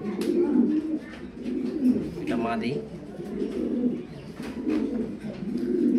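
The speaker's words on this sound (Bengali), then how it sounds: "চমৎকার একটা কবুতর, কালারফুল।" Soft, low cooing from racing pigeons murmurs through most of the clip, close by, with a person speaking briefly over it.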